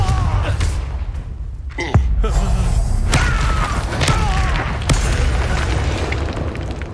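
Confringo spell blasts in Hogwarts Legacy: sharp booming explosions with a whooshing, crackling magical burst, loud and close, several impacts in quick succession amid game effects.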